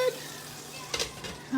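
Seafood-stuffed catfish fries in a pan with a soft, steady sizzle and a couple of brief utensil clinks near the middle and end, heard close and fairly quiet.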